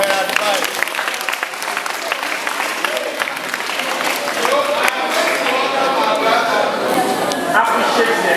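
Audience applause at a peace campaign event in Africa, steady sustained clapping from a crowd throughout, fairly close and filling the whole stretch.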